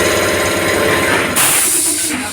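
Motorcycle engine running steadily just after an oil change with Wonderlube Enhance engine oil, a loud, continuous mechanical drone that shifts in tone partway through.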